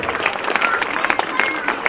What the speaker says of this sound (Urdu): زوردار تالیوں سے